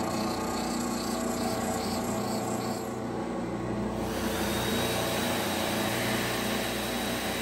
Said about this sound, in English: Next, I go to the 220 hard diamond wheel.